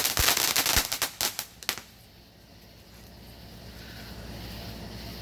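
A consumer firework still crackling and popping outdoors, a rapid string of loud sharp bangs that sputters out after a couple of seconds into a steady windy background.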